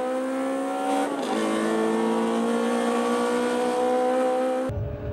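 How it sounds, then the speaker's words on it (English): Lotus Elise race cars at Oulton Park circuit roar steadily at high revs, a loud sustained engine note that dips briefly then climbs again before cutting off abruptly. "So Kay heads that group of 4 cars, but will he pay?"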